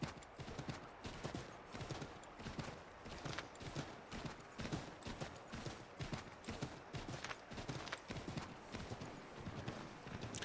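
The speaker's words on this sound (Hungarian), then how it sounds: "Vágta, kimeríti a lovat." A horse gallops in Assassin's Creed III Remastered: quick, rhythmic hoofbeats pound steadily and close for about ten seconds without letting up.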